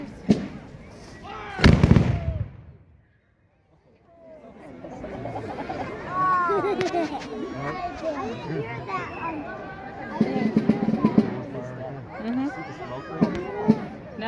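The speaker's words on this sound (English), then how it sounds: "Take care to fire by division." A musket volley fired by division at a Washington's Birthday celebration at Mount Vernon, heard as a loud sharp crack of shots early on, followed by a brief quiet and then the chatter of an outdoor crowd.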